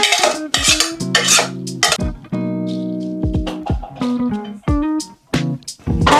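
Pieces of pork go into a metal cooking pot for baking in a Thai kitchen, with repeated clanks and scrapes of utensils against the pot in short, close bursts.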